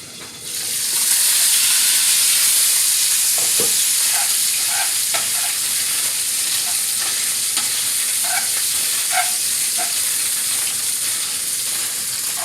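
Bacon fries in a pan with a steady, loud sizzle and hiss, broken now and then by faint pops and the scrape of stirring, with no voices.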